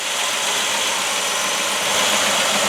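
A 1968 Pontiac Catalina engine idles steadily for the whole stretch, a smooth, even running rumble with a faint rise near the end and no voices.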